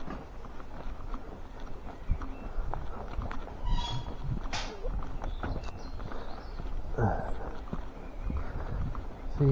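Horses walk along a path shared with people, their hooves clip-clopping in an uneven rhythm at moderate distance, mixed with footsteps and brief voices in the background.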